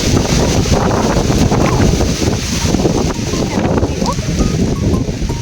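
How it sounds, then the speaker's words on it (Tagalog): Strong wind buffets the microphone in loud, continuous low rumbling gusts, close and roaring throughout. "Ay, lakas ng hangin."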